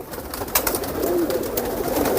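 High flyer pigeons coo softly in a loft in Jhalawar, a steady low murmur of overlapping calls running throughout, fairly close with some background noise.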